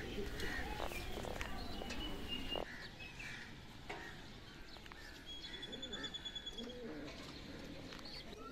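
Pigeons coo at a backyard coop amid soft chirps and outdoor background noise, with a steady low murmur of calls throughout and brief brighter tweets near the end.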